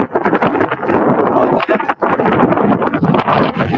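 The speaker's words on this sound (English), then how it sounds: "I'll go somewhere quieter because it's very windy." Heavy seafront wind at Castle Bay buffets the microphone in a continuous loud roar, with gusts and brief dips throughout.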